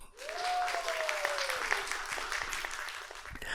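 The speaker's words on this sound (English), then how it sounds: "I want to give a big round of applause to ourselves" A round of applause with a rising then gliding whistle near the start fills the whole stretch at steady strength, then cuts off sharply at the end.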